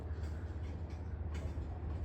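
Norfolk Southern freight train cars roll through the Sharonville yard, a faint steady low rumble with soft rhythmic swells and no voices.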